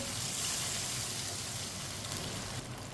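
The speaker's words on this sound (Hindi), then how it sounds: "अब 2 गिलास पानी डाल लेंगे।" Water poured into a pot of rice and potatoes for aloo pulao, a steady splashing hiss that holds evenly throughout and eases slightly near the end.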